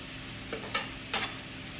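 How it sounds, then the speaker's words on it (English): Shallots sizzling in a pan as chopped sage is stirred in, a steady soft frying hiss with a few brief scraping stirs of a spatula, close and quiet, with no voices. "Once the shallots are sizzling and a bit fragrant, I'll add in my chopped sage"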